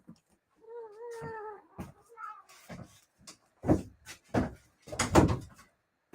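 A house cat meows in a short rising call, then gives further vocal sounds. Clatter and knocks from a crafting table, like a drawer or cupboard closing, follow nearby, with faint talk in the background.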